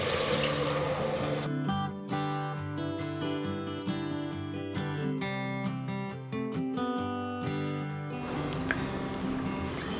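Water pouring into a cooking pot holding fried mint paste for pulao, a continuous close splashing stream lasting several seconds before tapering off, with no talk.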